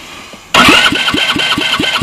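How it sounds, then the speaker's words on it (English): A 125cc Kasea Adventure Buggy engine catches after a brief quiet moment and settles into a loud, steady idle, its close, even putter pulsing rapidly with no voices. "This is a 125cc motor."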